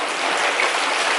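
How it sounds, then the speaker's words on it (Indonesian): Steady heavy rain falls outdoors, a dense continuous hiss of drops hitting surfaces, loud and close throughout with no voices. "Maaf teman-teman, lagi hujan kalau berisik ya suaranya."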